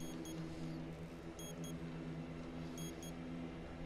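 A bomb timer in the video game Hidden Agenda gives faint, high, paired electronic beeps at regular intervals of about one and a half seconds. They sound over a low, steady background hum.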